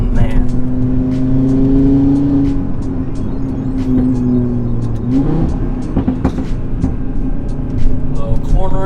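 A modified 2018 Audi RS3 accelerates hard, its engine note climbing and dropping with quick gear shifts, while a person talks over the sound inside the car.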